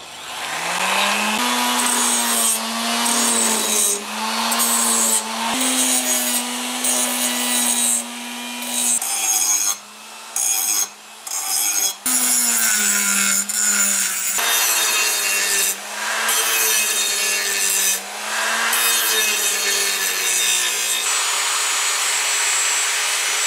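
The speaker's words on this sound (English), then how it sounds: "I'm going to use a rotozip with a grinding wheel to smooth out some of my imperfect welds" A rotozip fitted with a grinding wheel smooths rough welds on a homemade exhaust for a Honda Trail 90, giving a loud, close, whining grind that rises and falls in pitch with repeated short breaks as the tool bites and lifts off the metal.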